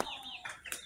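Chickens in a backyard coop for home-raised semi-free-range birds give a quick run of close, fairly soft clucks, squawky and uneven, over less than a second.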